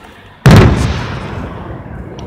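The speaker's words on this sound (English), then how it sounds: "They're fireworks." A single big firework explodes with a sharp, loud boom, then a long crackling rumble and echo fades slowly, close by.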